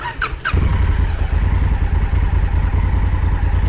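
A 2017 Honda CRF 1000L Africa Twin motorcycle engine starts and settles into a steady, close, loud idle with an even low throb.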